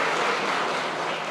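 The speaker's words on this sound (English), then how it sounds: "Let's give a round of applause." Dense, steady applause from a crowd at a space day event, an even wash of clapping with no break.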